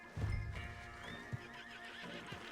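A horse in a stable whinnies and snorts in a Western video game, loud and close, with hoof clops and low stable rumble underneath and soft game music behind.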